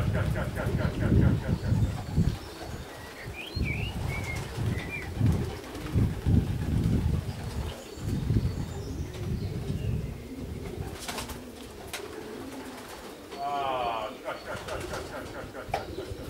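Racing pigeons arrive over the lofts with soft coos, scattered calls and flapping wings amid wind noise and outdoor rumble, while people talk nearby.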